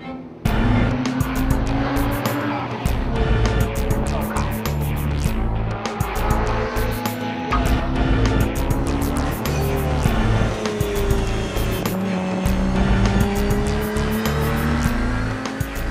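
A tuned race car runs an all-out lap at Tsukuba circuit on fresh spark plugs and medium-compound tyres, the engine loud and close, revving and shifting repeatedly, with tyre squeal through the corners.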